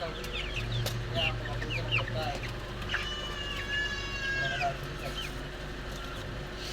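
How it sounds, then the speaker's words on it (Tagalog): Chickens cluck and squawk nearby, with a longer drawn-out call in the middle, over a low steady background hum. "Bayan na po yung ating manok at tayo pipili na ng malalaki"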